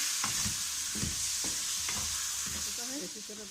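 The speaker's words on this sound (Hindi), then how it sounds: "चिकन को भी हमें 10 से 15 मिनट तक भूनना है।" Chicken frying in a kadai, a steady loud sizzle with the clatter of a spoon stirring through it several times, close up.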